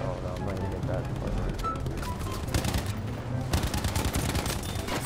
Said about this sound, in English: I am getting shot a lot, Jesus Christ.